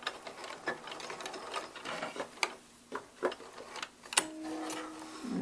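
A sewing machine stitches a flat fell seam close to the fabric edge in quiet, irregular bursts of rapid ticking and whirring, with short pauses and a brief backstitch, close by and without talk.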